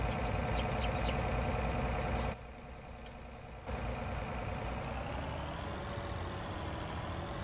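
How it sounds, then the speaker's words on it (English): A combine harvester reverses in Farming Simulator 19 during a soybean harvest, its steady engine drone running throughout while faint, evenly spaced reversing beeps sound over it, with one brief drop in the engine noise. "we'll just back the combine up to it."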